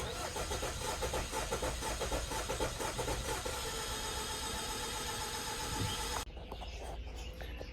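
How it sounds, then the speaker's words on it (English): A Jeep Compass with a faulty camshaft position sensor circuit runs steadily, its dense engine noise holding level for about six seconds before dropping to a quieter idle, with no talking. "All right, start the car."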